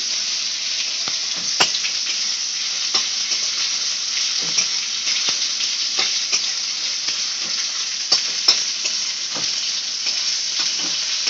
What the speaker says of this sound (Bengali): টমেটোটা ভালো করে ভেজে নিচ্ছে